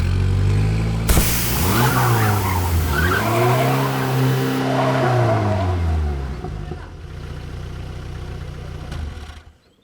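A car revs hard and skids with squealing tyres in a loud, close movie scene, the engine pitch rising and falling before a sharp bang-like cut and a fading tail into near silence.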